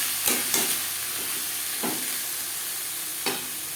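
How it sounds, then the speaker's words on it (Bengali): Banana stem stirred and frying with black cumin and green chilli tempering, a steady hissing sizzle broken by several sharp spatula scrapes spaced a second or so apart. "ফোড়নের সাথে থোর বেশ ভালো করে মিক্স করে দেবো।"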